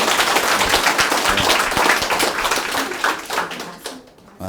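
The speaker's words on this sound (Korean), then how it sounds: "그래서 선사님한테 우리 박수 한번 주십시오." An audience at a Korean branch office's first-anniversary ceremony claps together in a lively burst of many hands, fairly close and loud, tapering off and fading out near the end.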